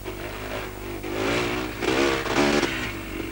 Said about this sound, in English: You can hear the motor, you can really make it pull